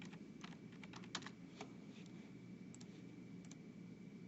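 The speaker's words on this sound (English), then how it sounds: "I could type it into my calculator" Numbers tapped into a calculator: a faint, quick run of small clicky key presses over a low steady hum.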